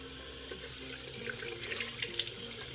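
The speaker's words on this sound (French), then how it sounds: "Et ensuite du coup je vais la rincer." Tap water running over a makeup sponge being rinsed in a sink, a soft continuous splashing stream with small squishy bursts as the sponge is moved and pressed, close but quiet.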